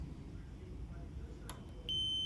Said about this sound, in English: There's your beep to know that we're good as a test